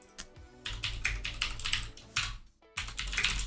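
Fingers typing a tar command on a computer keyboard, quick close bursts of key clicks with a short pause before a final flurry.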